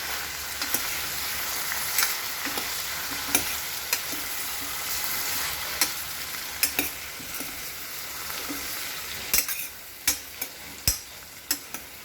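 Dal with turmeric stirred and mixed in a pan, a spoon scraping and knocking against the metal at irregular intervals over a continuous low sizzle, with no talk.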